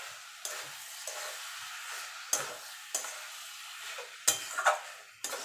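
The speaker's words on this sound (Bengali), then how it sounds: "দিয়ে দেবো ঘি, এবার ভালো করে মিশিয়ে নেব।" A spoon stirs banana flower and prawn curry with ghee in a pan, giving soft scraping strokes and several sharp metallic taps against the pan over a low sizzle, close and fairly quiet.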